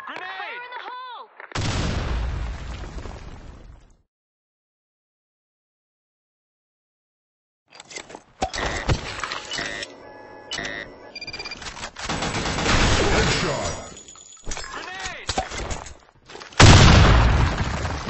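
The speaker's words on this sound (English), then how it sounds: "Grenade! Fire in the hole!" Video game combat with bursts of gunfire and heavy grenade booms, broken by a few seconds of silence, then dense rapid shots and blasts building to a loud explosion near the end, with shouted voices at the start.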